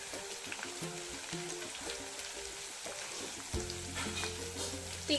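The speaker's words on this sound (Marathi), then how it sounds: "कांदा थोडस शिजू द्यायचो" Onion softening in a hot pan sizzles and crackles steadily in the foreground, with occasional stirring scrapes and a louder burst of frying near the end, no voices present.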